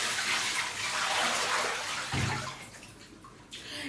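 Water emptied into a shower, a steady close rush of pouring and splashing that gurgles and tapers off near the end, with no talking.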